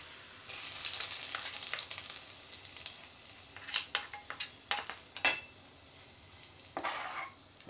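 Garlic tempering poured into cooked aloo palak, a soft crackling sizzle that swells into a cluster of sharp spattering pops and clinks, then settles, fairly quiet and close.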